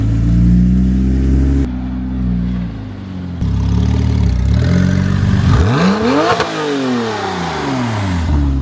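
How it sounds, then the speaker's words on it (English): A Porsche 996 Turbo engine revs hard, settling to a low idle, then climbing again through rising, falling sweeps of throttle blips, loud and close, with no talking. "I don't know if you could beat the sound of 996 turbo."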